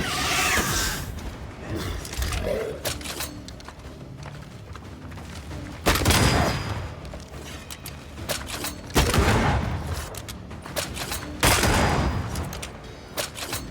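Repeated gunfire bursts in the video game Banishers: Ghosts of New Eden, loud volleys rising over a constant dense backdrop of combat noise, with heavier blasts recurring every few seconds.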